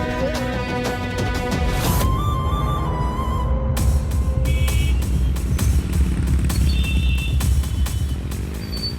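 A car being driven fast, its low engine rumble running steadily under loud background music for the whole stretch.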